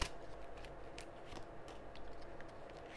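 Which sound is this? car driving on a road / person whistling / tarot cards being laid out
tarot cards being laid out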